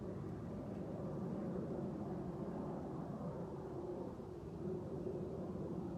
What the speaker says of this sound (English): You can hear the planes?